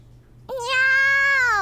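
A single drawn-out cat meow from the video game Nekopara, bright and close, rising then holding steady before trailing off, after a brief quiet start.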